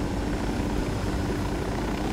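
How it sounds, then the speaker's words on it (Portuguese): A helicopter in the video game Ghost Recon Wildlands gives a steady, close, heavy rotor-and-engine drone that holds level throughout with no talk over it. "Mas espera aí que há aqui um helicóptero."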